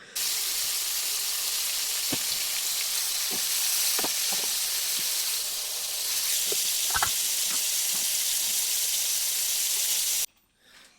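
Food sizzles steadily in a hot frying pan, a continuous loud hiss dotted with small pops and crackles, running alone until it cuts off abruptly near the end.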